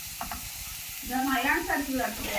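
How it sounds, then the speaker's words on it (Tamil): Small chicken pieces sautéing in sunflower oil for homemade shawarma, a close sizzle that swells louder after the first second, with stirring scrapes and light clatter. "இப்போ எல்லாத்தையும் சேர்த்து நம்ம எண்ணெயில் போட்டு நல்லா வதக்கிக்கணும்."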